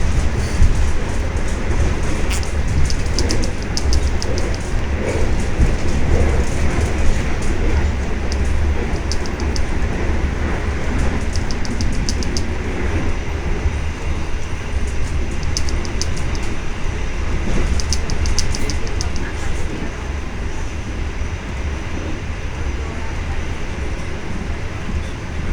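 A passenger train running from Gambir to Bandung on a morning service gives a steady, loud rumble with continuous rail noise and faint clicking, with no speech.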